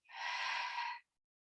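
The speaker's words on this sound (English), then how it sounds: "And open mouth, exhale," A single long breath released through an open mouth during a guided breathing exercise, soft and close, lasting about a second before silence.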